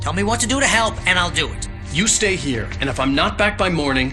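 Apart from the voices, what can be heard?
No everyday noise stands out behind the speech.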